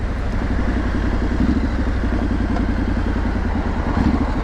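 Triumph Street Scrambler motorcycle engine running in a town centre, a close, steady low throbbing idle with a fast regular pulse and light mechanical clatter throughout.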